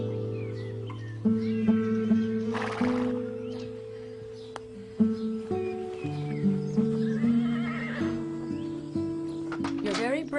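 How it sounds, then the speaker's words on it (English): A horse whinnies and neighs repeatedly with clip-clopping hooves, set against a tonal musical backing and faint birdsong, all fairly loud and close. "Maybe I better saddle up Augustine."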